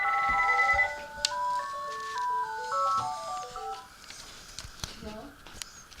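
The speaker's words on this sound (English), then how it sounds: "Sorry guys about the phone ringing in the background." A phone's melodic electronic ringtone plays a bright stepping tune in the background of a room, fairly faint, with some clicks and handling noises.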